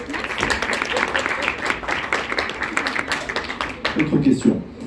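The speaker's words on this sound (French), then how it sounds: "On peut vous applaudir." Applause from a festival audience at a comic book event, a dense patter of clapping lasting several seconds close by, with a voice speaking briefly near the end.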